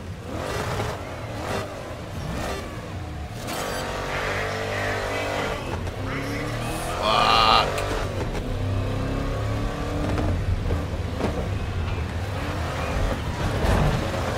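Trophy truck engines roar and rev in a Grid Legends race, a steady loud drone of several motors with rising and falling revs, brief thuds around landings, and voices talking over it.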